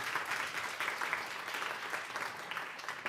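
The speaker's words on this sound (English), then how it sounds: "Everybody, round of applause for Steve" Applause from a meetup audience after a talk on digital payments, a fairly quiet, continuous patter of many hands clapping that holds steady for a few seconds.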